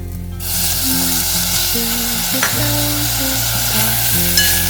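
Paneer frying in fried rice makes a loud, close, continuous sizzle, with a steady low hum and faint tonal sounds underneath and a brief clatter midway, no speech.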